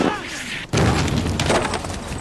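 Explosion from the war TV series Band of Brothers: a sudden heavy boom breaking in after a brief hush, followed by rumbling debris and crackling noise, with a voice heard briefly before it.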